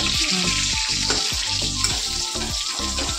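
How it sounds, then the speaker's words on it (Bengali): Pointed gourd fries in plenty of oil in a home kitchen, a loud continuous close-up sizzle broken by rhythmic scraping and stirring strokes every half second or so. "বেশি তেল লাগে পটল ভাজা"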